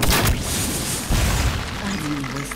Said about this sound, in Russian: Выстрел, один.